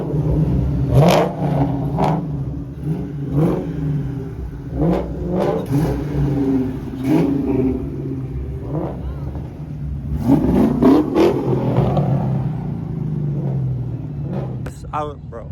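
A Ford Mustang at a Hot Wheels car show revs loudly nearby in repeated surges over crowd noise, with people talking throughout.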